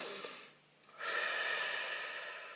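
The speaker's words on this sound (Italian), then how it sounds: "facciamo un bel respiro profondo" A single deep breath: a soft, brief inhale, a short pause, then a long, steady, airy exhale that gradually fades, heard close up with no talking.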